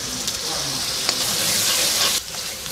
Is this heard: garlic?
yes